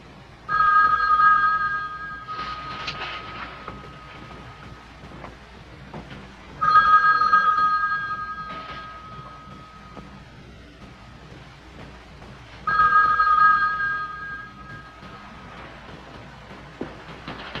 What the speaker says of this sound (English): That phone's still ringing.